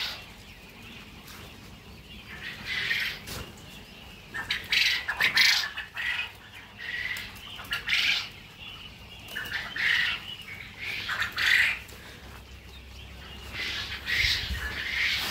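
Quail kept in cages squawk and chirp in repeated bursts, with flapping wings and general rustling, a busy flock of birds recorded close by with no talking.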